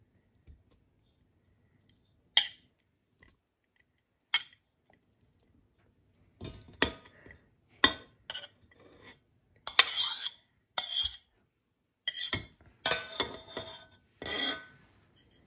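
A knife or spoon scraping butter from a bowl while making Christmas bredala cookies: sparse light clinks at first, then a cluster of short metallic scrapes and taps against the bowl, close and fairly quiet.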